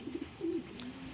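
A racing pigeon cooing softly in its loft, a few short low coos followed by a longer drawn-out one, close and moderately quiet against faint background noise.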